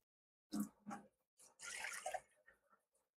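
Water running from a kitchen faucet while making soft pretzels comes as several short splashing bursts and then a louder steady gush that tapers off, close by and with no talk.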